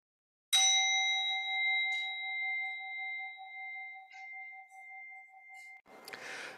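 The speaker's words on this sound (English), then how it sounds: "We ring this bell three times." A single bell struck once at a Sunday church service, a clear bright ring that sustains and slowly fades with a steady pulsing shimmer, close and alone, followed by a soft rustle.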